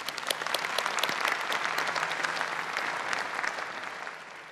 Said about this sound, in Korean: 서성조 책임과 아이언버드 관계자에게 큰 박수 부탁드리겠습니다